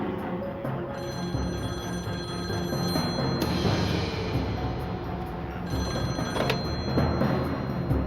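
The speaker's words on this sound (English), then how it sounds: "It was Guthrie on the phone." A telephone ringing in a steady, continuous electronic tone over a constant background hum, moderately loud, with no talk.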